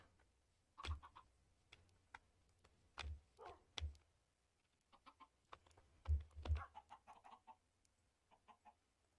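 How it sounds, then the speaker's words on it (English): Chickens cluck in a pen in the Minecraft video game, with short, quiet clucks scattered irregularly over several seconds and no talking. "I have the chickens in a pen."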